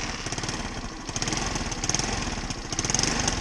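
A small motorcycle engine with lost compression runs roughly at close range, a steady chugging drone with uneven pulses and occasional sharper pops that could be backfires.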